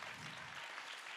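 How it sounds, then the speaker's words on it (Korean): A chapel congregation at a Seoul-area united worship service applauds together, steady broadband clapping throughout the short moment with no talk over it. "다시 한 번 더 격려의 박수 부탁드립니다"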